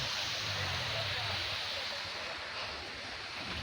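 The Krueng Peto river flows through dense forest wilderness as a steady, soft rush of water heard from some distance, with a low rumble underneath.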